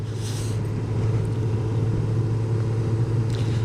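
A 2022 Honda CB1000R Black Edition motorcycle engine hums smoothly while riding, a steady low drone with wind rush, near and continuous.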